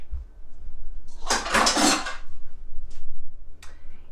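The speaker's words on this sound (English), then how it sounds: "Put this in the sink." Dishes and utensils clatter as they are set down into a sink, a short burst of clinking followed by two light knocks.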